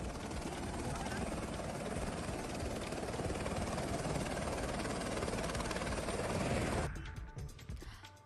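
A helicopter sits on a helipad with a steady, loud rotor and engine roar for most of the stretch. The roar drops away abruptly near the end.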